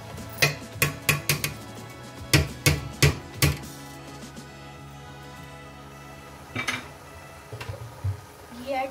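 Sharp metal clinks of a spoon against a pan, a quick burst of taps and then a second run, as ghee is added to crushed carrots for halwa, followed by quieter scraping and stirring.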